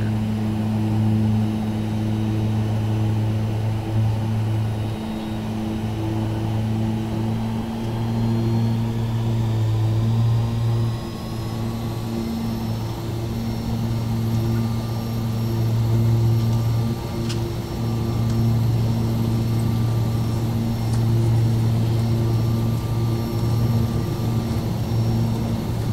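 Carenado Turbo Commander twin-turboprop aircraft cruising in a flight simulator, a loud constant engine drone with steady low propeller hum and a thin high whine, unbroken throughout with no talking.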